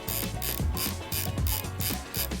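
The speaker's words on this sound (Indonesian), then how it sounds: "Gunakan kamera hingga winder bisa bebas diputar seperti berikut." Film winder on a Hikari Cam reusable camera spun freely by hand, a rapid run of ratcheting clicks in regular bursts, close and fairly loud with no voices.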